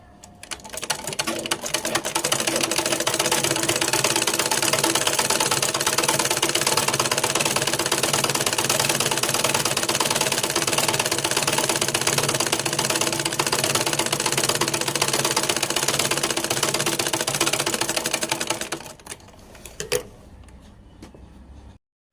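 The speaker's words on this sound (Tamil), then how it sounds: "ஓப்பனில் இருக்க ரெண்டையுமே ஜாயின் பண்ணி தைக்க போகிறோம்" Steady, continuous whirring of a sewing machine stitching a silk skirt for a one-year-old child, loud and close for about eighteen seconds before it stops abruptly, leaving a quiet tail.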